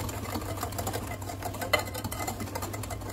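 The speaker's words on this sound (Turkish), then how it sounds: "yumurtamı derin bir borcama kırıyorum. Ardından 1 su bardağı şekerimi ekliyorum. İyice çırpıyorum." Eggs and sugar whisked in a deep glass dish, a fast, steady rhythmic tapping and swishing of the whisk against glass, close and fairly quiet, with a low hum beneath and no talk.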